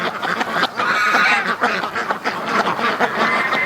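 Ducks quacking during courtship, a male pressing a female: loud, close, rapid runs of quacks and raspy calls overlapping almost without pause.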